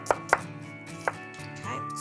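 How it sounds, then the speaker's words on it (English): A knife slices half an onion, cored with a V cut, on a cutting board: three crisp, separate cuts close by, then a quiet low hum with no more strikes. "So just a V cut there, and then finely slice it."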